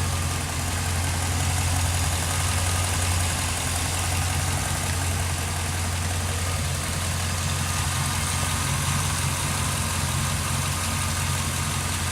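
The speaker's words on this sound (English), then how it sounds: "It's a good sounding engine." A 1992 Chevrolet Corvette's 5.7-litre LT1 V8 idling steadily, a continuous low rumble with an even throb, close and constant throughout with no voices.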